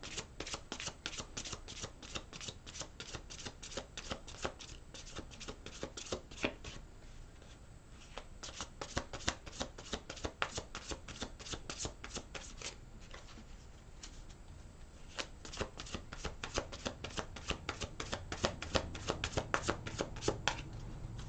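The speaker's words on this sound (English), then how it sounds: "One more shuffle." A tarot deck is shuffled over and over in a long, steady run of quick, crisp card riffles and flicks, close and fairly soft, with a short lull midway.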